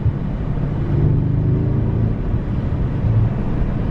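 A Porsche Panamera rolls through heavy traffic, its low engine rumble steady and close with slight swells of acceleration, heard from inside the car with no talking.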